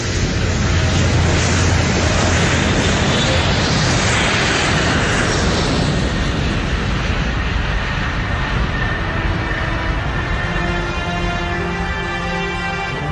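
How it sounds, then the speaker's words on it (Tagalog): An airplane roars loudly overhead in a film scene, a dense, sustained rushing noise that builds and then slowly fades, with no speech over it. "ayun na po ba ang eroplano natin?"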